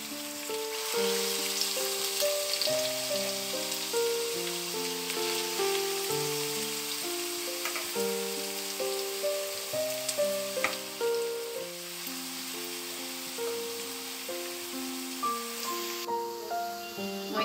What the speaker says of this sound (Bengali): এতিয়া গাজৰখিনি অলপ ভাজিম ভালদৰে।